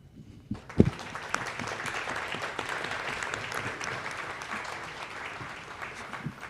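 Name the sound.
audience applause at press conference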